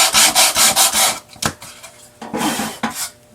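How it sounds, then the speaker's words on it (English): Sandpaper rubs lightly over a wooden tea box in quick back-and-forth strokes, a close, scratchy rhythmic rasp that pauses and resumes in short bursts. "I just took sandpaper and just very, very lightly just sanded over it just to knock down those high edges"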